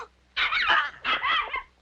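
A dog barks indoors in a 1980 French television drama: two loud, close, yappy bursts of barking separated by a brief pause, heard alone without speech.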